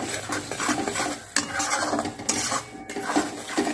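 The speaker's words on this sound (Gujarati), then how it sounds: "હવે આપણે બરાબર મિક્સ કરી લઈશું આને." Stirring an adadiya pak mixture with dry ginger powder in a pan, heard as close, repeated scraping and clinking of a utensil against the metal, with a faint sizzle beneath and no talking.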